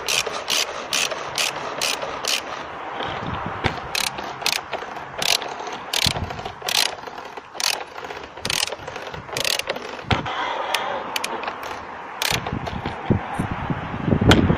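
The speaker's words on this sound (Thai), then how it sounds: "ปรับเงี้ยขันเข้าแล้วขันรึดรึด" A ratchet wrench tightening a fitting during an engine oil change: a long series of sharp, rapid ratcheting clicks in bursts, close and loud, going on for the whole stretch with no talk.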